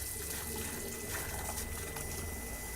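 Water running from an electric pump tap inside a camper van, a steady close rushing flow with a faint underlying pump hum, continuous and even for the whole moment.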